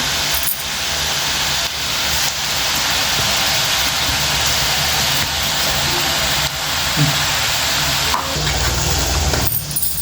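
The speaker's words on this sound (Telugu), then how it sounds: "చూడండి సన్నని మంట మీద మెడిగం మీద ఇట్లా కాల్చుకోవాలండి" Peanut pakodi frying in oil over a medium flame, a steady dense sizzle and crackle that runs continuously at close range, with a few faint thumps and shifts in the bubbling.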